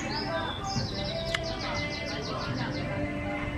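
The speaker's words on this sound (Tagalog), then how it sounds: "Ganda namang huni ng ibon." A bird chirps in a quick series of bright, repeated notes over a soft background murmur, fairly close and clear.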